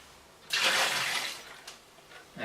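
Water pours and splashes over sterilised home beer-brewing equipment in a single loud rinse that tapers into faint trickles and drips, with no voices.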